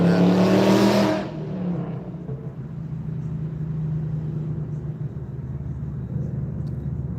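A car with a worn, loud muffler rumbles past at close range, a burst of engine roar over the first second before settling into a steady low drone as it moves away.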